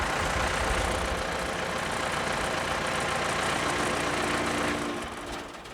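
A Bandit 200XP wood chipper's engine idles with a steady, loud, rumbling drone, easing slightly in the last second.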